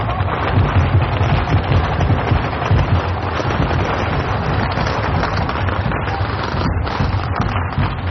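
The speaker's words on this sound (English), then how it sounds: "Firecrackers going off all over the place." Firecrackers bursting nonstop during a street procession in Tianshui, a loud, dense barrage of overlapping cracks and pops close by with no break in the noise.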